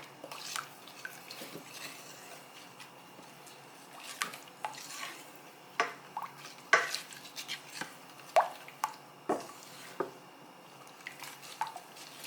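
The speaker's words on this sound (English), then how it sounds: "Give this a stir." Stirring in a pot of simmering buffalo tofu sauce during vegan cooking, heard as faint, irregular scrapes and soft clinks of a utensil against cookware repeating over several seconds, with no talking.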